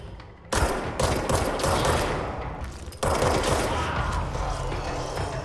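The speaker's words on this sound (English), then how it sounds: "And more people shooting." Dense, continuous bursts of enemy gunfire in the video game Control, loud rapid automatic shots layered into a sustained barrage that briefly drops before resuming at full intensity.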